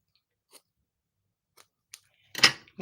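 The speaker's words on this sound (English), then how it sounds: "we will trim our ribbon" Scissors trim ribbon for a stamped handmade card, giving a few faint isolated snips followed by a louder, closer cutting crunch near the end.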